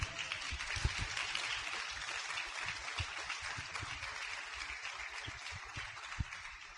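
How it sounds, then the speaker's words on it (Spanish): A church congregation bursts into sustained applause during a Spanish-language worship service, with dense, steady clapping from many hands and a few sharper claps standing out across the whole stretch. "Y un aplauso al Señor."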